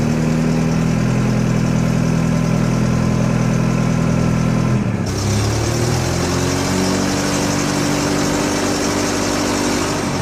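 A forklift engine runs loud and steady, then revs up midway as the lift arm is worked. A deep droning tone shifts to a higher, rising pitch.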